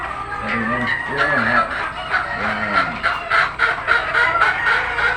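Hens cluck and chatter repeatedly nearby, a busy flock of overlapping calls with some background murmur of voices.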